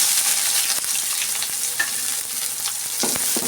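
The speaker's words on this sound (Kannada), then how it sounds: "ಸ್ವಲ್ಪ ಚೆನ್ನಾಗಿ ಆಯಿಲಲ್ಲಿ ಫ್ರೈ ಮಾಡ್ಕೊಳ್ಳೋಣ." Chopped onion, Byadgi chillies and garlic fry in hot oil for okra sambar, a loud continuous sizzle and crackle with faint stirring, close by.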